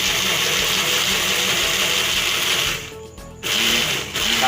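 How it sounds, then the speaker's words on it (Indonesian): A spice blender grinds seasoning for rica-rica, a steady loud whirring motor that briefly dips and surges before resuming. "Agak berisik ya, karena suara blendernya Mas Tor ya."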